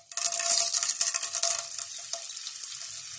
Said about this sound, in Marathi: घी तापलाय, त्याच्यामध्ये आता मी हे डिंकाची कढी टाकते.